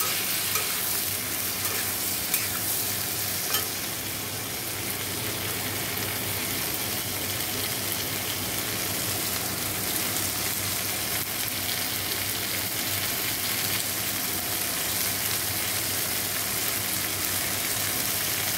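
Snake gourd and pointed gourd fry with salt and turmeric in a pan, a long, continuous close sizzle with the faint rustle of stirring beneath, and no one speaking.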